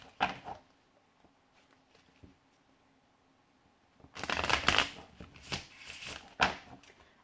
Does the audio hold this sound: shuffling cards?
yes